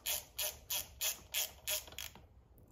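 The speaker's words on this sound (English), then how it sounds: "Now I'm just gonna go through and snug the poly locks up." A ratchet snugging the valve rocker arm poly locks on a Chevrolet S-10 truck engine during a valve adjustment, giving six short, even clicking bursts close up, then stopping.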